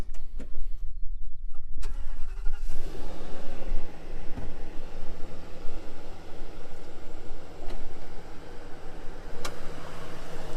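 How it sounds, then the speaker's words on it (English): A 2016 Ford F450 pickup truck's brand-new engine cranks and starts, then settles into a steady, loud idle rumble that continues to the end. "Kevin, let's start that motor up, show them this brand new engine."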